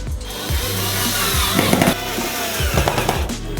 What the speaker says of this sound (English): put on some plywood and fix it with the corners